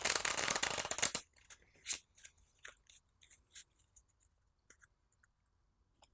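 A deck of game cards for a Zombicide board game is riffle-shuffled in one quick, close burst, followed by scattered soft taps and clicks as the cards are squared and settled.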